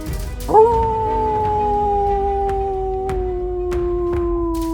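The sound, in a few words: wolf howling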